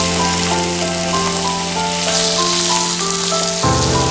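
Onions frying in a pan for South Indian spicy kadai chicken, with a loud, dense, steady sizzle and crackle that runs continuously over a low tonal hum.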